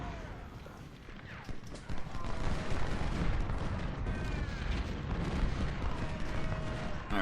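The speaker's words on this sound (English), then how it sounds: "Just so much artillery." Repeated booming artillery fire in the Civil War strategy game Ultimate General: Civil War at Malvern Hill, dull blasts thudding over a continuous rumble of battle, growing louder partway through.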